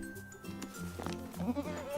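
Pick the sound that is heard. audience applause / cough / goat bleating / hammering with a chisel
goat bleating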